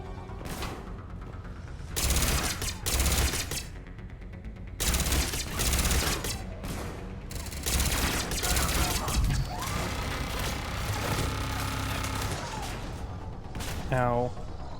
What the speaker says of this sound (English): Oh, yay, another turret.